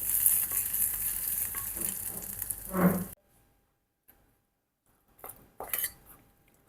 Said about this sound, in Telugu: ఇప్పుడు ఈ పోపునైతే పచ్చడిలో కలుపుకుందాం.